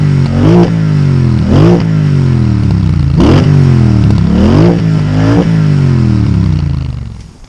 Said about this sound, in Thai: ซุ้มเสียงที่ออกจากท่อไอเสียคู่ทรงแจกันนั้นเร้าใจแบบสุขุมนุ่มลึกตามสไตล์ผู้ดีอังกฤษ